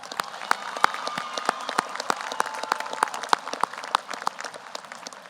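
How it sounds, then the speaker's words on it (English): Scattered applause from the audience at a high school graduation ceremony, distinct individual claps ringing out at a moderate, fairly even pace in a large open space, moderately loud. "Let's give them a round of applause."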